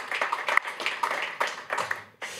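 A small audience at a business conference applauds, sparse, uneven clapping from a few hands in short bursts that trail off quickly.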